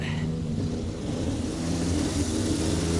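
A 1960 Triumph Herald engine running after sitting for 42 years, a steady low rumbling idle with a slight rise in revs, heard close and continuous.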